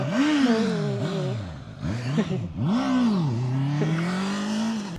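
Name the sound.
motorcycle passing by at Honda press test ride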